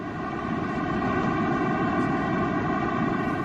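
A simulated rendering of the sound of the universe's birth, a loud, complex sustained drone of many layered tones with a roaring, windy texture, heard alone without speech.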